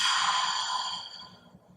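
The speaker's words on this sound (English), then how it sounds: "Gentle inhale and full exhale." A full, long breathy exhale through the mouth during yoga breathing, close and clear, fading out gradually over nearly two seconds.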